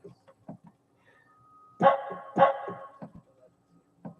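A dog gives two sharp barks close by, with softer scattered yips and small noises before and after.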